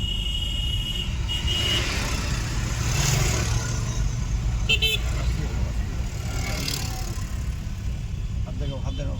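A car drives along a main road during a driving lesson, its engine humming steadily from inside the cabin with faint traffic and a brief horn toot. People talk over the engine throughout.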